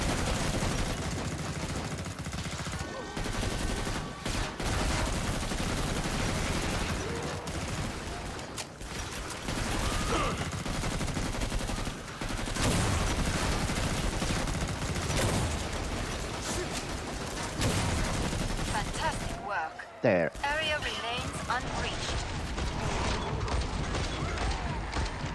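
Rapid gunfire and mechanical weapon clatter from the video game Killing Floor 2, loud and nearly continuous with brief gaps and a sharp burst near the end, heard close up amid dense game noise.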